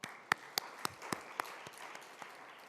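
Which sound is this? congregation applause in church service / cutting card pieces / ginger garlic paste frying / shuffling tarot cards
congregation applause in church service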